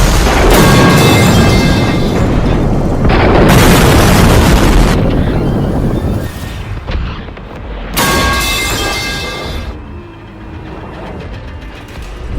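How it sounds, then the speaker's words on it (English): Loud explosions in the video game Dead Space, repeated heavy booming blasts with roaring rumbles in bursts, dropping between them to a lower droning background. "Running past explosions and through walls of fire, we make our way back to the airlock"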